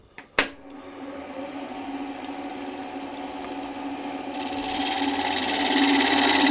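A wood lathe turns a yarn bowl held against foam while a sharp bowl gouge takes a light cut. A sharp knock opens the sound, then a steady motor hum runs, and a brighter cutting hiss rises and builds toward the end.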